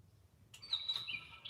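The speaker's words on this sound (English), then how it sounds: "Oh, I hear you, bird." A small bird gives a faint, high chirping call from some distance, a brief thin whistle-like phrase over quiet indoor background.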